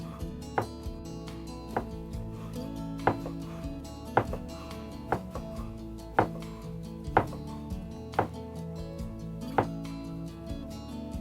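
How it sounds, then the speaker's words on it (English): A knife chops ham steak into small squares on a cutting board for pork and beans with cabbage: steady, evenly spaced thuds over soft background music. "we're just going to cut that in little squares"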